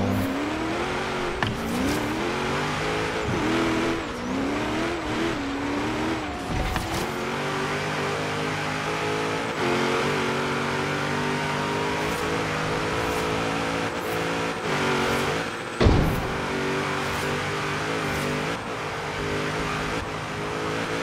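A car engine in Forza Horizon 3 revving under throttle, droning steadily with rising and falling pitch through gear changes, a few brief dips and one sharp bump, loud and continuous with no talk.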